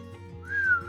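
A single short whistle rises and then slides down in pitch, sounding over a low hum. It is a human voice imitating a loud two-finger whistle during a children's storytime reading.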